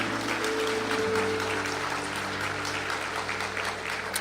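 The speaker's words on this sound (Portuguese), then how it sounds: "Se você for aplaudir a palavra de Deus," Church congregation applauding during a Portuguese-language sermon, steady dense clapping throughout with a sustained low keyboard tone beneath it.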